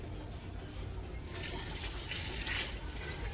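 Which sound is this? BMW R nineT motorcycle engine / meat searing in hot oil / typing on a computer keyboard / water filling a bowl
water filling a bowl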